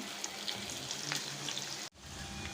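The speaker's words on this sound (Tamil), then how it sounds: "எண்ணெய் ஊற்றிருக்கோம் இதில் கொஞ்சம் சோம்பு போட்டுக்கலாம்" Fennel, ginger and garlic fry in hot oil for a beef sukka, giving a close, steady crackling sizzle that cuts out briefly near the end and then resumes.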